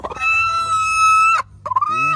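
Chickens at a farmyard coop are heard close and loud: a long, sustained crow-like call, then a short pause and a rising cluck.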